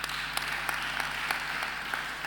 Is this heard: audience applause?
yes